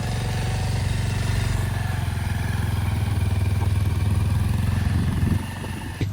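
A motorcycle engine labours at high altitude on a mountain road in Upper Mustang, running loud and close with a steady low throb and rattling clatter that dips briefly near the end.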